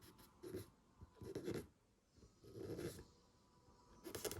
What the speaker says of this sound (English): So you can hear that squeaking on the wood.